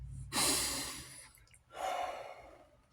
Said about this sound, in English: the first thing we should do is take a deep breath.